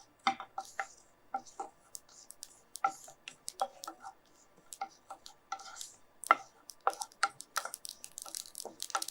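Sesame seeds dry-roasting in a pan crackle with sharp, irregular little pops, scattered and fairly faint, heard close with no talking.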